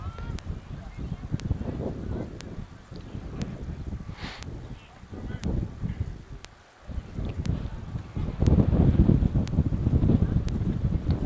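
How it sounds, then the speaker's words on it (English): Gusty wind buffets the microphone at an outdoor high school baseball game on a sunny day, a steady rumbling roar that swells and eases, with brief dips and a stronger stretch near the end, under faint background activity. "Windy day today."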